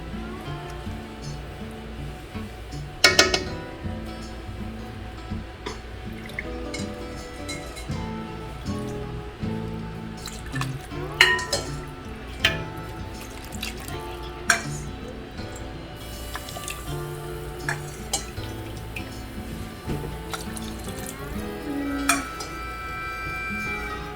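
A metal ladle stirs stock into a pot of frog leg gumbo, giving scraping, sloshing and intermittent clinks of utensil against pot with a few sharper knocks, no talking.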